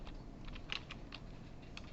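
Keystrokes on a computer keyboard while text is entered in Notepad during a programming lecture, a faint, irregular patter of separate clicks over a low steady room hum, with no talking.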